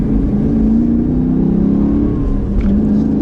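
A car accelerates smoothly with a steady, loud engine drone that rises slightly in pitch, heard from inside the cabin and without talk.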